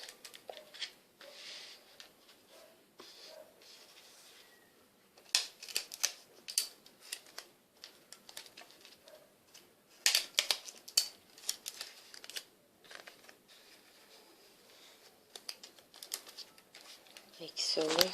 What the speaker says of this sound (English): let me just grab a scotch tape so you can see it